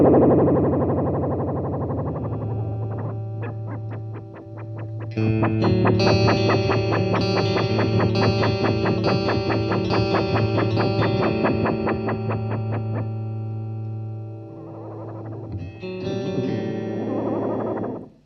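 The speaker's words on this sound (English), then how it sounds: "you'll hear each of those parameters modulating really fast" Guitar through a Chase Bliss Audio Tonal Recall analog delay pedal with its parameters modulating fast, sustained notes and chords smeared by warbling, chorus-like repeats that pulse and swell, then fade into a final burst.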